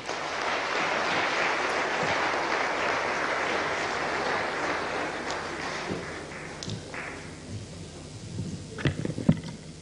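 An audience at a conference on the Sustainable Development Goals applauds after President Kagame's speech, with loud, sustained clapping that gradually thins out, leaving scattered claps and some room noise near the end.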